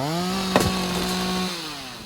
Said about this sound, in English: Just run around with the chainsaw like, you know, Jason Voorhees level